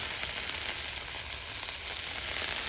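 Chili powder sizzles in hot oil in a frying pan during village cooking of a fish curry, a steady, close, hissing crackle that holds evenly with no talking.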